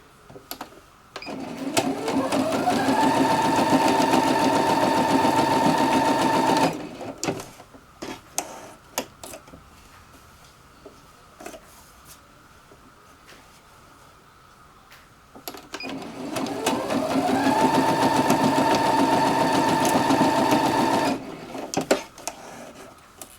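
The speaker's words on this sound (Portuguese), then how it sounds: "Eu não faço retrocesso, porque a gente vai costurar de novo, não tem necessidade." Sewing machine stitching a fabric wall panel, running in two sustained bursts of rapid mechanical whirring at close range, with quiet handling clicks in the pause between.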